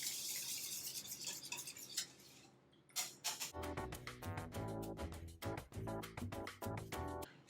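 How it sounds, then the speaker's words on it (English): Vegetable oil mixture whisked in a bowl, a quick rapid clinking and scraping rhythm that starts after a few seconds of background noise and continues steadily, close and fairly loud, with no talking. "Whisk this up."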